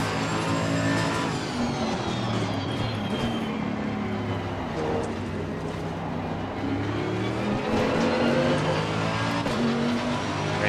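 A race car engine roars steadily in the Assetto Corsa Competizione video game at Imola, climbing and dropping through gear changes with other cars close by and occasional tire squeal, loud and continuous throughout.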